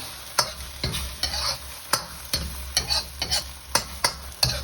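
Egg mixture for vegetable egg foo yung frying in sesame oil in a pan, a steady sizzle broken by about a dozen regular scraping strokes as it is dragged and stirred, close and clear with no talking.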